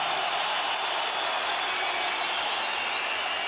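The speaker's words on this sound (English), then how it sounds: "So give me some noise from the crowd." Large boxing crowd at Sheffield Arena roaring and cheering before a heavyweight fight, a dense, steady wall of voices and applause that holds loud and unbroken throughout.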